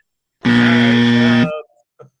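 A distorted quiz buzzer from a computer blares once, a loud steady buzzing honk lasting about a second, then cuts off with a faint crackly blip afterward.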